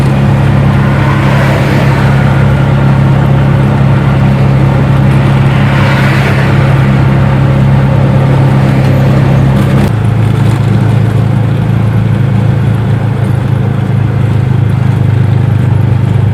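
A CNG auto rickshaw running low on gas and driven through a village, its engine a loud, constant rumble with rough, uneven surges while moving.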